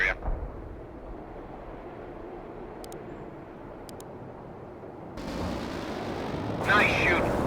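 Artillery fire and explosions in the video game World in Conflict: a low, steady battlefield rumble that swells into heavier, broadband blasts, ending in one loud, sharp explosion.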